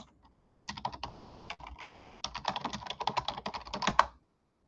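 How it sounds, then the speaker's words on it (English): Someone types on a computer keyboard in quick, irregular bursts of clicking keys, with a short pause midway and the typing picking up again, nearby and alone. "Why am I typing this?"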